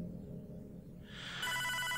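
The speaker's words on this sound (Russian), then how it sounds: "Телефон." A telephone in the video game Hotline Miami 2 starts ringing after a quiet low hum, its bright electronic trill cutting in at the end and continuing steadily.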